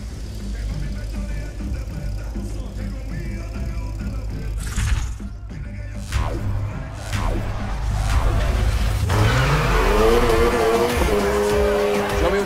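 A car accelerating and drifting in the racing game Need for Speed Heat: the engine revs and climbs in pitch, with quick whooshes partway through, then a surging, louder roar with tire squeal as the slide builds toward the end.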